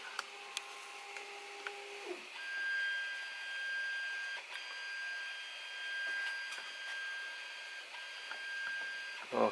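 A Creality CR10S 3D printer fitted with an auto bed leveling sensor runs its auto-home routine, giving whining stepper-motor tones that rise and shift in pitch, with a few short clicks, close and steady with no talk.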